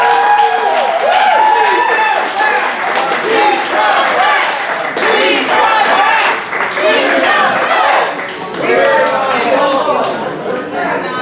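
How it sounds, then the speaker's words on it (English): Loud, sustained applause and cheering from a poetry slam audience, with shouts and voices mixed in throughout. "That applause going for our next poet coming up to the stage."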